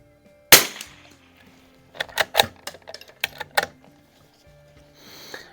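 A single sharp rifle report from a Remington 513-T firing Gecko match ammunition at an outdoor 50-yard range rings out near and loud, followed by a string of lighter clicks and clatter.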